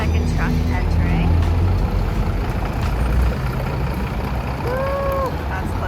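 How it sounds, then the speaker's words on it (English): A heavy truck rumbles in at a tight site entrance, engine droning loudly up close, then eases off as a rising tonal whine or squeal sounds near the end, with people talking over it. "This is the second truck entering"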